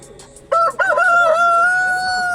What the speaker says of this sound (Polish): O, jak pieje ładnie.